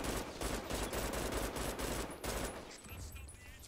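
Gunfire in the first-person shooter Brink: dense bursts of automatic weapon fire with overlapping shots, moderately loud, fading toward the end.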